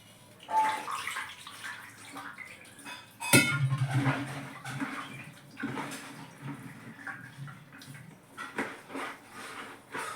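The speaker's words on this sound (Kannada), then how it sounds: "ಮತ್ತೆ ನಾನು ನೀರು ಹಾಕ್ತಾಯಿದ್ದೀನಿ." Water is poured while making soji, a Mangalore winter drink, with splashing and trickling bursts, a sharp clatter of a vessel near the middle, and uneven surges that come and go.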